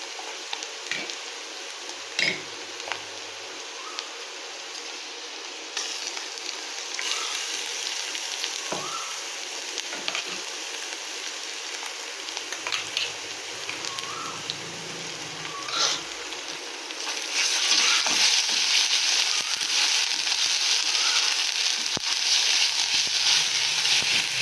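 Grated beetroot fries in a pan with a continuous sizzling hiss, broken by occasional stirring knocks and scrapes, growing louder and brighter near the end.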